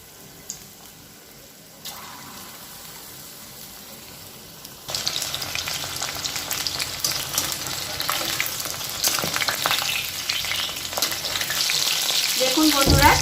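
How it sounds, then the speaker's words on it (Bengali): Marinated chicken pieces dropped into hot oil in a wok, quiet at first, then the frying bursts into a loud, steady sizzle with stirring scrapes and a building crackle toward the end. "এবার এখানে আমি একে একে ম্যারিনেট করা চিকেনগুলো ভেজে নেব"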